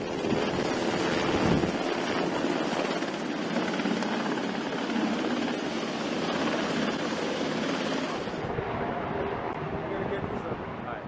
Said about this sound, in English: helicopters transport goods